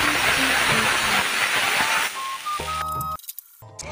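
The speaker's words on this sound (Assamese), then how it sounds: "এইফালে তিতাকেৰেলাখিনি দিয়াৰ সময় হৈ গ'ল" Bitter gourd slices hit hot mustard oil in a pan with a loud, dense sizzle that crackles for about two seconds, then drops away behind clear musical tones.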